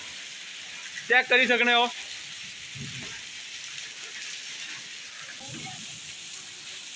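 Heavy rain with hail falls steadily as a constant hiss in the background, while someone speaks briefly and loudly over it.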